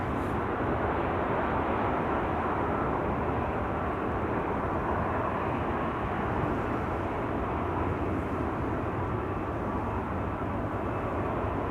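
A KLM Boeing 777 airliner taxiing at Amsterdam Schiphol Airport, heard as a steady, loud jet engine roar with a broad rumbling hum that stays constant throughout.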